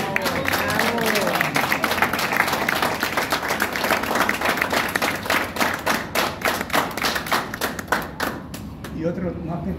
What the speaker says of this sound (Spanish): Pido un aplauso para los...